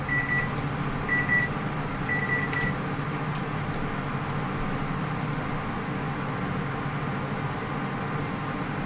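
A few short high beeps from a kitchen timer in quick pairs sound over a steady hum in the first three seconds while cooking waffles in a vintage cast iron iron, then only the constant background drone continues.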